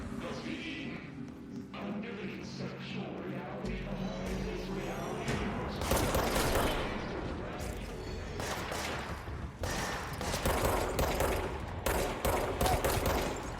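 Gunfire in the video game Control: dense, loud bursts of shots and impacts that fill most of the stretch, with heavier volleys in the second half over a steady game soundscape.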